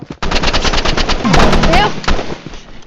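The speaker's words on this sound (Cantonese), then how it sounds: "突擊步槍住 auto shot， 兩個都 auto shot 喎。" Loud, close automatic fire from an assault rifle in the Roblox video game comes in rapid, evenly spaced bursts, with a faint voice briefly mixed in.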